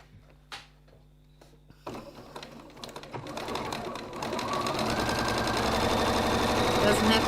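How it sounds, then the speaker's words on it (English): Sewing machine stitching a line along a fabric body shell for a Penny Inn build, starting after a few handling clicks and then running steadily and loudly with fast rhythmic needle chatter. "we're going to run a line of stitching down there just to hold it in place"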